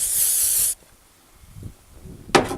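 Brake cleaner sprayed from an aerosol can onto a Farmall International tractor part, a loud close hiss lasting under a second, followed by quiet handling noises and a brief second spray burst near the end.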